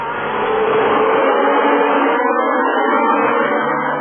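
Turbocharged 1982 Formula One cars race at the Brazilian Grand Prix, a loud, dense engine roar sustained throughout, heard alone without voices.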